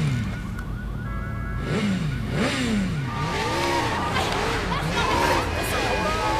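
A motorcycle ridden in Sleeping Dogs hums with a steady engine whose pitch rises and falls as it revs, with traffic and other game sounds around it and speech over the top.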